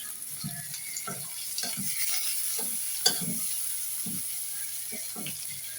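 Tatkini fish stir-fried in a hot pan, a steady sizzle under repeated spatula scrapes and knocks in an uneven rhythm, with one sharp clack midway, close and without talk.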